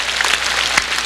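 A church congregation at a Sunday worship service bursts into dense, loud applause, a brief sustained wash of many hands clapping at once.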